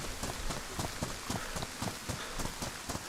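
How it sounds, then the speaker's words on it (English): Rain falls in the video game DayZ as a dense, steady patter across the whole scene. A faint rhythmic thudding runs beneath it, and no one speaks. "See how it's raining?"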